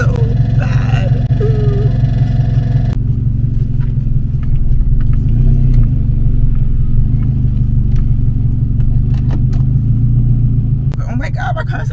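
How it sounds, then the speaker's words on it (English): A car engine runs rough while held in drive on the brakes, a loud continuous low rumble with uneven throbbing that persists throughout, with a brief voice at the start and end. "my car sounded so bad"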